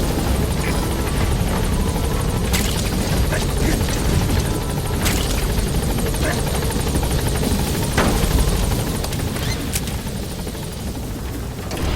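Helicopter in the video game Metal Gear Solid 2, a loud, steady rotor and engine roar holding for the whole stretch, with a few sharp transient hits cutting through.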